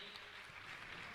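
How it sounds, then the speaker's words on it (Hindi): Faint, steady clapping from an audience at a Jain religious discourse by Praman Sagar Ji Maharaj, honouring family members of Vidyasagar Ji Maharaj. The sound is a continuous, distant patter with no distinct individual claps. "मैं चाहूंगा आप जोरदार ताली बजाकर इनका सम्मान करें"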